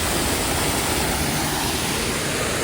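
A large waterfall in Malgund, surrounded by dense greenery, roars with a loud, dense, unbroken wash of falling water, steady and close with no voices.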